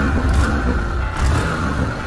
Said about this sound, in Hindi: सबसे पहले एग्जॉस्ट के साउंड को चेकआउट करें